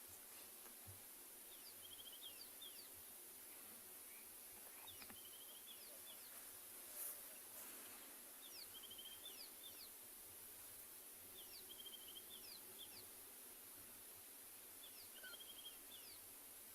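Buffalo weavers and other birds calling from a marula tree on a South African morning safari, repeated short chirps and trills recurring throughout at moderate distance over quiet bush ambience.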